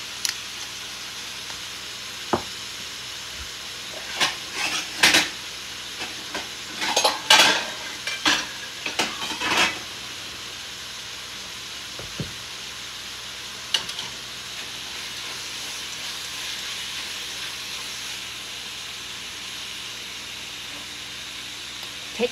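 Onion and pepper fry in a pan with a steady, soft sizzle, broken by several sharp clinks and scrapes of a utensil against the pan in bursts through the first half.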